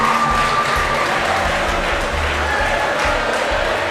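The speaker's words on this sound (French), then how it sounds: "Maximum d'applaudissements, s'il vous plaît." Audience applause at a French awards show for women laureates, a dense steady wash of clapping and crowd noise that holds at an even level for about four seconds, with a faint tonal music line underneath.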